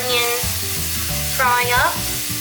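Onion and four finely chopped green chilies frying in a pan for chana masala, a continuous loud sizzle with stirring under a strong musical backing, close.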